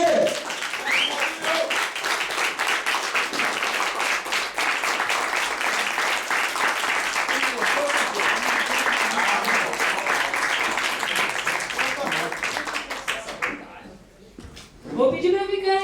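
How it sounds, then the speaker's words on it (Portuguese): Sustained applause from a standing audience at the end of a debate, steady dense clapping for about thirteen seconds, then dying away into scattered claps and a few voices. "eu queria que ficasse de pé e desse uma salva de palmas para a Sabotagem!"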